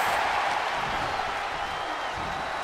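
A large arena crowd roars and applauds in the WWE 2K23 wrestling game, a steady, dense wash of cheering that holds at an even level throughout without clear breaks.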